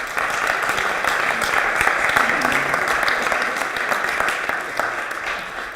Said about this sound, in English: Can we do one more round of applause for all of this?